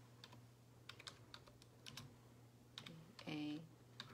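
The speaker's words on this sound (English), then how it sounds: "I gotta try to type it in again" Typing on a laptop keyboard, a run of light, irregular key clicks with short pauses between bursts, close by and fairly quiet, followed by a brief electronic tone near the end.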